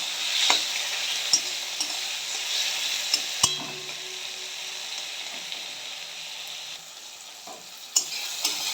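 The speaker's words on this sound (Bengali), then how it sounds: "টমেটোটা ভালো করে কষিয়ে নেব।" Tomatoes sizzle steadily as they are sautéed in a pan for an egg curry, while a spoon stirs with occasional sharp scrapes and clicks against the pan. The sound is close, with no talk.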